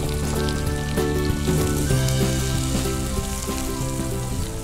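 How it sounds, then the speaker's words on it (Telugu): Onions, green chillies and curry leaves fry in hot oil after mustard seeds and cumin, a steady close sizzle running throughout, with music playing over it and no talk. "ఆనియన్స్, గ్రీన్ చిల్లీస్ అలాగే కరివేపాకు వేసుకొని ఫ్రై చేసుకుంటున్నాము"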